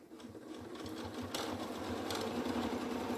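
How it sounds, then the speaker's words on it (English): Sewing machine with twin needles stitching a folded hem on stretch knit fabric, running at a steady fast, close motor whirr with no speech. "I'm just going and fold the hem and then start sewing"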